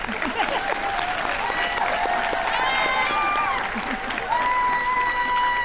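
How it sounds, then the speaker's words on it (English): An audience at a senior recognition ceremony breaks into sustained applause, a broad even wash of clapping with scattered cheers, whistles and voices rising through it, steady and fairly loud for the whole stretch. "let's give them a round of applause and wish them well"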